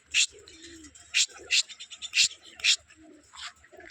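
Pigeons heard up close outdoors: soft, low cooing murmurs broken by several sharp bursts that are likely wing flaps, spaced irregularly over a few seconds with no talking.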